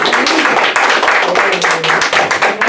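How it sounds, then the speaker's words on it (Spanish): A church congregation claps for the Lord in a brief, dense burst of sharp, close hand claps that keep steady and loud throughout. "Dale un aplauso al Señor."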